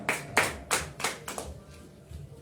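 A small congregation at a church service claps in several distinct bursts, loud sharp rounds at first that thin out and fade into quieter scattered claps near the end.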